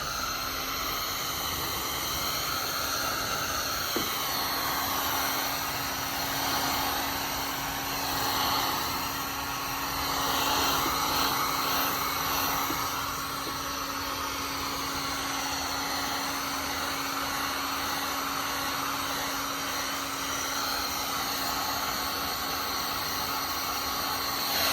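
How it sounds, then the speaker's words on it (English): A heat gun blows a steady, hissing stream of hot air around the edges of tint film on a car taillight, running continuously and evenly at close range with only slight swells in loudness. "you're gonna take your heat gun and you're gonna go around the edges"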